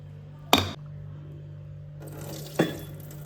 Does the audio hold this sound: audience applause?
no